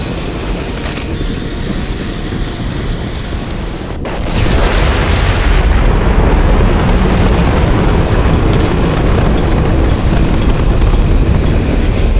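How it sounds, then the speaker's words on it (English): An explosion in the video game Mass Effect 2 hits at about four seconds, turning a steady noisy bed into a louder, dense, sustained roar that runs to the end. "It's going to explode."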